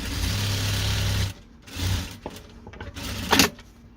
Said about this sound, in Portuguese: aqui eu já passo uma costurinha de segurança onde eu cortei.